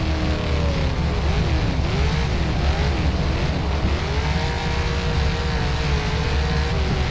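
A Kiwi SuperStocks race car in rFactor at Waikaraka Speedway, its engine droning loudly and continuously while the throttle is feathered through a corner, pitch wavering up and down without pause and no voices over it.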